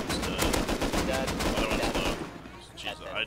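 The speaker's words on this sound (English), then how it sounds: "I hate shooting from that angle" Rapid automatic gunfire from the survival video game Rust, a dense loud burst of shots for about two seconds, then fading into quieter game sounds.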